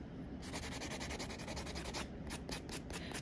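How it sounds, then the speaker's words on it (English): A buffer rubs back and forth over an acrylic nail to smooth out file scratches, giving a soft, steady, close scraping with quick repeated strokes and no voice. "So we just buff the nail to remove the scratches we made when we were using the file."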